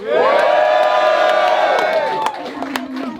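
A loud crowd at a rap battle event cheers and whoops together, sustained for about two seconds, then fades into scattered shouts and claps.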